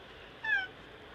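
A cat gives a single short, faint meow over a quiet background hiss, with no talking.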